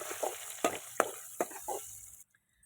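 Dried chillies and garlic crackle in hot oil in a pan while being stirred for village-style lemon rice, with several sharp sizzling bursts and scrapes, then a sudden stop into quiet.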